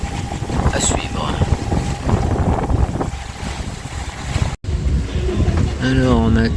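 Steady wind of 14-15 knots rushes over a sailboat running downwind under genoa alone on the Mediterranean, with continuous broadband buffeting and water wash; a voice speaks near the end.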